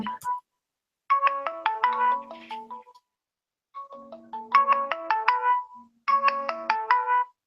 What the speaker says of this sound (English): it was ringing on Hangout